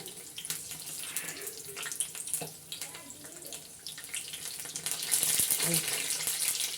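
Unniyappam batter spluttering and crackling in hot oil in an appam pan: a continuous bright hiss dotted with sharp pops, growing louder and denser toward the end.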